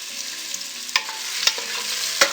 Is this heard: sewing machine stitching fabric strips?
no